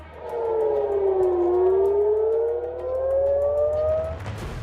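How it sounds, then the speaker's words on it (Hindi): An Israeli war air raid siren wails in Tel Aviv or Haifa, its tone sliding down and then climbing slowly back up in one long, loud, sustained rise and fall. "तेल अवीव से हाइफा तक वॉर सायरन का खौफ गूंज रहा है।"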